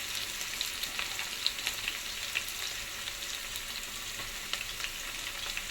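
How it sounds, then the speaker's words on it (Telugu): Onions and garlic pieces fry in a pan for Telugu-style fish curry, giving a steady, close sizzle with small crackling pops throughout and no talk. "ఆనియన్ వేసి అలాగే తెల్లగడ్డ ముక్కలు కూడా ఇందులో వేసేద్దామండి."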